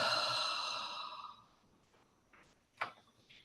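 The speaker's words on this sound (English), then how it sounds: "Take a deep breath and exhale out the mouth." A deep breath is exhaled out through the mouth during a calming mindfulness exercise, one long soft airy sigh that fades out, followed by quiet with a small click.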